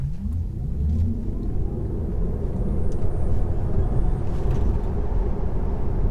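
A 2021 Tesla Model 3 electric car accelerates hard toward a bend, a low rumbling road and motor roar that builds steadily in loudness over several seconds, with no talking.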